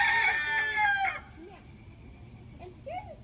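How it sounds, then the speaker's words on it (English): A big rooster and a flock of chickens crow and cluck in a garden; a loud, bright crow fills the first second, then scattered clucks and short calls follow at a quieter level. "And scare this big rooster and all chickens away from the gate."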